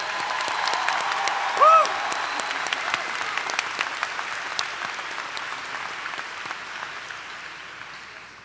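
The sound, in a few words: audience applause at commencement ceremony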